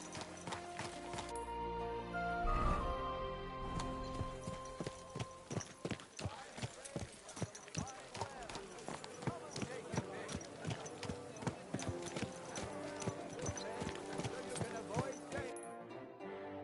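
Rhythmic clip-clop of horse hooves trotting at a steady pace amid background music in the video game Kingdom Come: Deliverance II, with a short neigh near the start.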